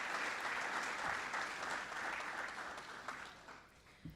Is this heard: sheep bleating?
no